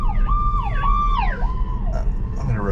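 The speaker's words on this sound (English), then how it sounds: "I'm going to report that fire truck or ambulance" Emergency vehicle siren, a fire truck or ambulance, wailing and yelping in loud repeated sweeps as it passes near a car on the road.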